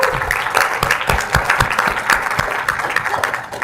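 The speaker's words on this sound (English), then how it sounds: "give yourselves a round of applause" An audience at a Las Vegas pre-launch event for Üforia applauds, brisk dense clapping close up with distinct individual claps, sustained at an even level.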